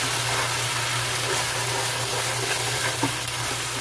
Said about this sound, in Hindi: इसको 2 से 3 मिनट के लिए भूनेंगे